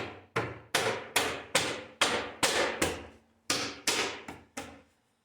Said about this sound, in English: First thing we're going to do, push the centre in.